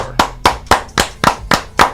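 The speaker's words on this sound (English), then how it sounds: "23 claps, ready?" Hands clap sharply seven times in a brisk, even rhythm, each clap close and distinct, counting out claps for a birthday.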